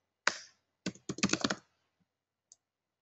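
A computer keyboard typed in short bursts of close, crisp key clicks, a single tap at the start, then a quick cluster, then a final lone click, with no voices.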